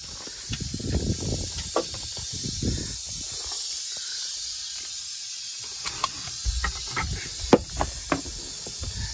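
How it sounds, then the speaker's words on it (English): An angry rattlesnake rattles during a relocation drive, giving a dry hissing buzz that runs in uneven stretches with low rumbling bursts and a few sharp clicks. "this thing is an angry one. It's been rattling the whole ride."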